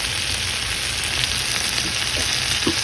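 Scrambled omelet with shredded cheese and butter frying on low heat in a cast iron pan, giving a steady, close, dense sizzle with no voices.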